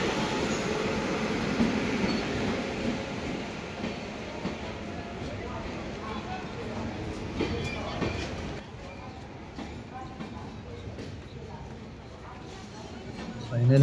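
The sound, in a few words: train arriving at railway platform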